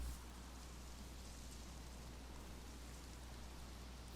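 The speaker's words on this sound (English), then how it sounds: "Oh yeah, it's raining." Steady, even rain hiss in the video game DayZ, with a low rumble underneath, continuous and unbroken, no voices.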